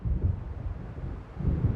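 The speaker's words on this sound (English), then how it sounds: "It seems there's a storm coming." Low rolling thunder of an approaching storm in the video game Alan Wake Remastered, a steady deep rumble that swells again near the end, with no voices.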